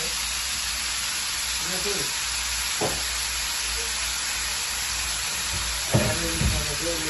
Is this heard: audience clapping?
no